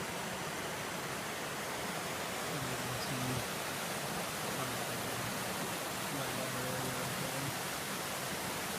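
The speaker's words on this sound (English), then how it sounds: "And it just keeps flowing." Battle Axe Creek rushes by in a steady, broadband roar, close and continuous, with a faint voice murmuring beneath the water.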